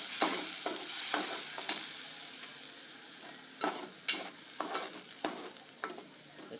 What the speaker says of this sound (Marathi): चांगलं परतून घ्या.